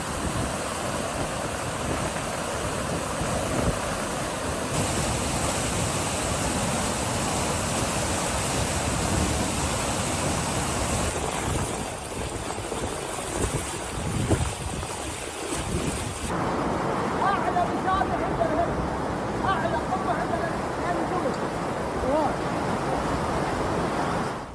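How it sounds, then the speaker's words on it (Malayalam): Floodwater after heavy rain in Saudi Arabia rushing in a loud, continuous roar with no pauses, mixed with wind buffeting the microphone and no clear talk. "ഇതോടെ വെള്ളത്തിന്റെ കുത്തൊഴുക്കും വർദ്ധിച്ചു"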